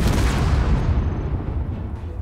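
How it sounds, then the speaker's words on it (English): Ships explode in the space video game Space Engineers, producing a loud, sustained rumbling blast with a deep low-end roar and crackling debris noise that slowly fades, with no talking over it. "So the explosions I've been hearing have been ships exploding."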